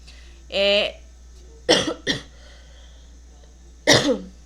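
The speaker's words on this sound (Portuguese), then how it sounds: "vou tossir muito ainda durante essa 1h40" Several sharp coughs: a short burst near the start, then two quick coughs together, and one more after a pause, fairly close and loud.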